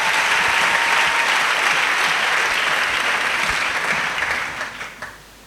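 A church congregation gives loud, sustained applause as a clap offering to Jesus Christ, dense and continuous before fading out at the end.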